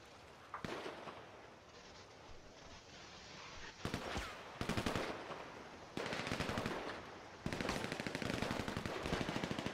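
Rapid automatic gunfire in GTA V, loud bursts of machine-gun fire in quick rattling volleys, starting and stopping several times with short gaps between them.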